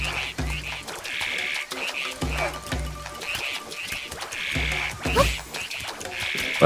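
Frogs croak in a swampy area of The Legend of Zelda: Echoes of Wisdom, with repeated low croaks pulsing in steady bursts under bright, chirpy game music and occasional effects.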